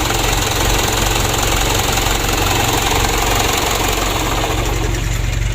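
A car engine with hard-starting trouble and a suspected faulty starter idles after being started, a loud, steady rumble with a fast even knock, close up and alone for a few seconds.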